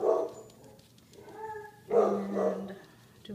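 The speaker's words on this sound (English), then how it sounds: "dog barking" A pet dog barks a few times nearby in an indoor craft setting, two short bursts of sharp barking separated by a brief pause, with no speech over it.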